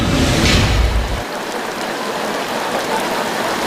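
Heavy rain pours down in a dense, steady hiss, loud and close, with a stronger burst at the start before settling into an even roar.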